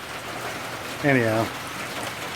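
Steady rain falls outdoors in the countryside as a constant soft hiss, with a person briefly speaking over it partway through.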